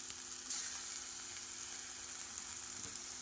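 Ginger garlic paste hits well-browned fried onions in a pan for a kaju makhana curry, giving a steady, close bright sizzle with a brief louder burst as the paste goes in, and no talking.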